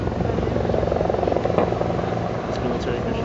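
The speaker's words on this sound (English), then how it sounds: "Here comes the helicopter." A military helicopter flies over Washington, D.C. near the White House after an earthquake, its rotor chop steady and loud throughout, with people talking underneath.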